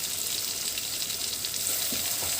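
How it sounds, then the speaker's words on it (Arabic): Shrimp sizzling and frying in a hot pan as soy sauce goes in, a steady broadband crackle and hiss that grows slightly louder toward the end, with no voices. "هنزل بقى صويا صوص، شوية صويا صوص، معلقة كده"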